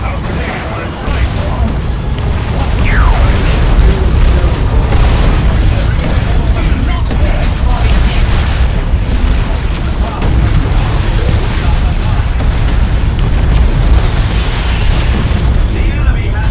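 Grenades burst in the Dawn of War 2: Retribution real-time strategy game, heavy booming explosions rolling on continuously under battle noise and unit voice lines.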